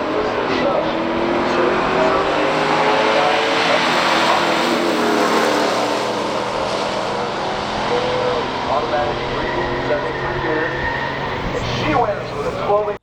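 Drag racing between a 1969 Dodge Dart GTS 340 and a Chevrolet Camaro SS 350, small-block V8 engines roaring loud and steady throughout with crowd and announcer talk layered over them.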